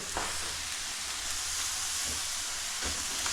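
Beef browns in a frying pan with a dense, steady sizzle and a few soft thumps or stirs in the pan; no voices over it.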